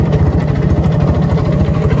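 Engine of a 30-year-old Bajaj Chetak scooter running steadily nearby, a low throbbing idle with a continuous pulsing rhythm and no talk over it.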